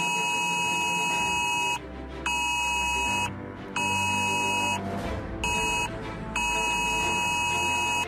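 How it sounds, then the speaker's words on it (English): UK government emergency alert sounding on phones: a loud, harsh, steady electronic tone layered with a buzzing vibration, cut by several short gaps that give it an irregular stop-start pattern. "This is what the alert is going to sound like according to the government."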